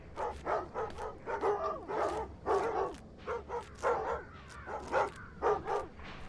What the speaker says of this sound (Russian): Давай, собаки, опять гавкайте.